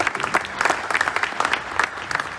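At an outdoor Field of Honor opening ceremony, an audience claps in a dense, sustained burst of applause that holds steady throughout.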